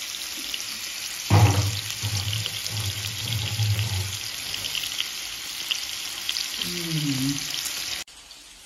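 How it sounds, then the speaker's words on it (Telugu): Pieces of fish fry gently in a pan with a continuous soft sizzle and hiss, a louder low bubbling burst rising for a few seconds before settling back to the steady crackle. "ఇవి చిన్నగా ఫ్రై అవుతూ ఉంటాయండి."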